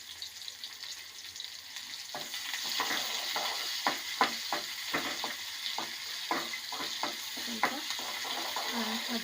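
Onion and ginger-garlic paste fry in a pan for millet bisibele bath, giving a continuous close sizzle with frequent sharp scraping clicks as a spoon stirs, irregular but steady over several seconds.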